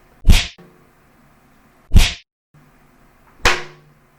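Three sharp snapping cracks of a wet rat's tail towel whipped through the air, evenly spaced about one and a half seconds apart, loud and close with silence between.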